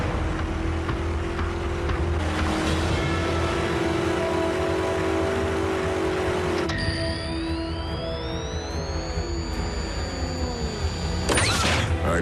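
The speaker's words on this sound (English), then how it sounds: "I'd know the hum of that engine anywhere." Cartoon vehicle engine from a Transformers animated series hums steadily as it approaches, followed by a rising whine and sweeping mechanical tones, with no speech.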